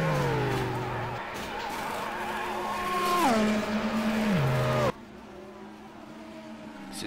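A race car in the rFactor racing game, at an endurance race at Interlagos, drones loudly with a steady engine tone that drops in pitch through downshifts before cutting sharply to a quieter hum.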